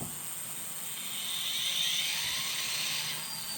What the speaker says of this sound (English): There's one engine spooling up.